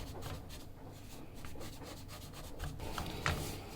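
Flour and semolina being stirred and roasted in a pan for halwa, a soft continuous rubbing and scraping of the spoon through dry grains, fairly quiet and steady, with a slightly louder scrape near the end.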